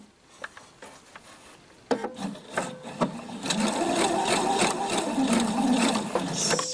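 A Husqvarna Viking sewing machine stitches a tittekant, sewing a cord band between fabric, starting with a few sparse taps and then settling into a steady, close, fast mechanical whir.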